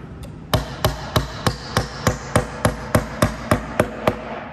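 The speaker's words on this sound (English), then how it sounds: "I'm going to come through with the hammer" A hammer drives a fastener into a pre-drilled hole in a wooden keepsake box, about a dozen sharp, evenly spaced blows landing close and loud with nothing else heard.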